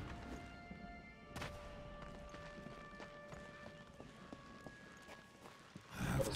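Horse hooves clip-clop steadily in the video game Darksiders II, a quiet, rhythmic trot under low game ambience and musical tones, ending in a louder rush of noise.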